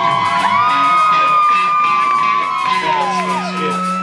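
A small crowd at a Davis graduation event whoops and cheers, shrill yells and whistling whoops rising and falling across the whole stretch, loud and close, with talking mixed in beneath.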